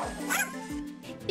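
A cartoon dog gives a few short yips and barks close up in an animated Barbie Skipper babysitting episode, with a voice briefly talking around them.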